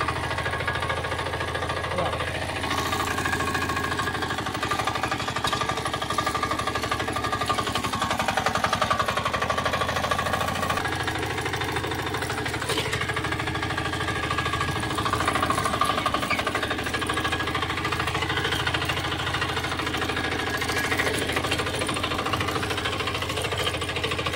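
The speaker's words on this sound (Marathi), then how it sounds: "आता आपण ह्या इथून आपलं ट्रॅक्टर वळणावरून खाली उतरविणार आहोत।" Tractor engine rumbling as it turns off a farm field and drives down a slope during pre-irrigation tillage, a loud continuous throbbing drone with a knocking chug that shifts slightly in pitch, close and steady throughout.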